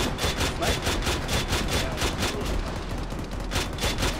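Sustained automatic fire from a vehicle gunner in a combat video game, rapid rhythmic bursts pounding continuously and loudly through the whole stretch with no pauses.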